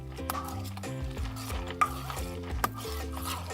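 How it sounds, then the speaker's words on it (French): Mayonnaise being stirred into a tartare in a bowl, soft wet mixing with light clinks of a utensil against the dish, close and steady with a couple of sharper taps, no one speaking. "C'est important que la mayo soit bien mélangée."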